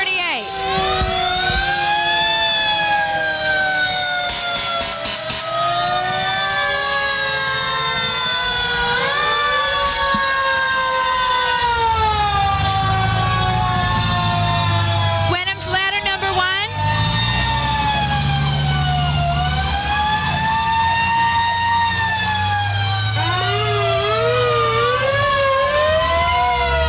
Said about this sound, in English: A classic-looking fire truck.